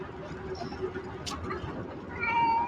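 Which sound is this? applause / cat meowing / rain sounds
cat meowing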